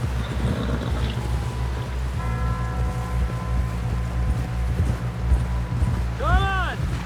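Horse hooves clip-clop steadily in Red Dead Redemption 2 as a rider nears camp, a rhythmic clatter under a low rumbling bed, with a sustained tone and a brief warbling sound toward the end.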